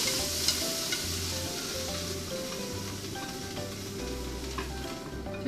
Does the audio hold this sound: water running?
no